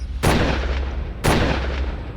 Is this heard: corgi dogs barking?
no